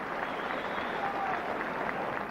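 Football crowd at Eastville Stadium, Bristol, during a 1974 league match between Villa and Bristol Rovers, applauding Rovers player Baker: a steady, dense wash of clapping and murmur that holds evenly throughout.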